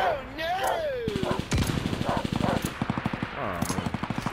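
Rapid automatic gunfire in Call of Duty: Vanguard rattles in dense bursts through most of the stretch, with a player talking excitedly over the shooting.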